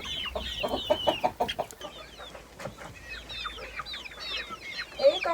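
Backyard chickens cluck in a run of short, moderately loud calls with a brief sharper squawk near the end, outdoors on a sunny warm day with no talking.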